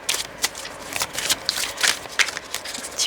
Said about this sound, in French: On va rajouter une petite carte.